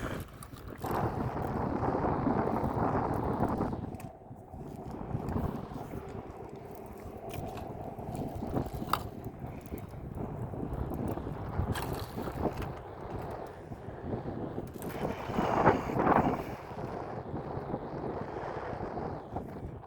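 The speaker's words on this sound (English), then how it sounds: "That wind is howling." Wind buffets a boat on Carlyle Lake during catfishing, a continuous rough rumble and gusting microphone noise with occasional knocks and water sounds, fairly quiet overall and with no talk.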